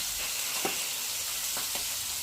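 Bhola fish frying in oil on a flat tawa, a steady close sizzle with a few brief louder crackles and stirring scrapes, no voices.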